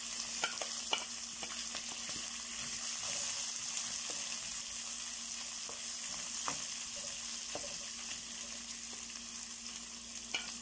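Garlic, green chilli and ginger sauté in oil in a pan with a faint steady sizzle, broken by occasional light taps and scrapes of a stirring spoon.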